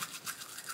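Teeth being brushed with a toothbrush, a rapid scratchy back-and-forth scrubbing in quick repeated strokes, close and fairly soft, with no talking.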